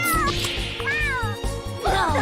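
A cat meows repeatedly in the fighting game Skullgirls, with several drawn-out, wavering meows, loud and close, over rhythmic game music and effects.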